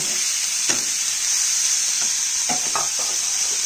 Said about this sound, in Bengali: পেঁয়াজের সাথে নাড়াচাড়া করে একটু ফ্রাই করব।